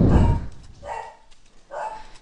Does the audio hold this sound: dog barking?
yes